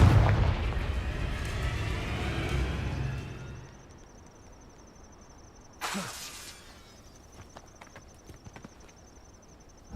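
A fiery blast spell in Hogwarts Legacy bursts with a loud rumbling boom that decays over a few seconds, followed by a sharp crack and a thin high ringing tone.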